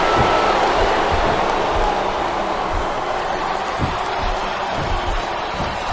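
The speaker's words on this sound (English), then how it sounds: "It sounds like this capacity crowd has something on their minds, Taz" A large arena crowd in the wrestling video game WWE SmackDown vs. Raw 2007 roars steadily, a dense wash of cheering and murmuring that rises and falls slightly without pause.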